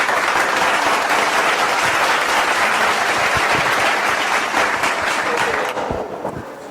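Loud, dense applause from a crowd at a religious discourse and cultural programme, sustained for several seconds before tapering off near the end.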